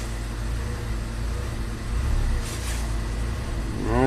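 A turbocharged Chevrolet HHR SS engine idles with a low, steady rumble that swells slightly a couple of times as it surges, close by with no talking.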